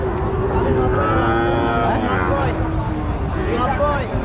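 A crossbred cow at a calf and cattle market lets out a long, loud, drawn-out moo close by, with voices and market chatter mixed underneath.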